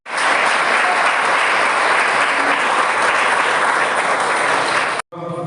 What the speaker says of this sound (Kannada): ಎಲ್ಲರೂ ಎದ್ದು ನಿಂತು ಒಂದು ಚಪ್ಪಾಳೆ ತಟ್ಟು ಅವ್ರು ಪ್ರೋತ್ಸಾಹಿಸಿ